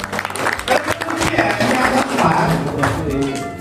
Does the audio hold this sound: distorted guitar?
no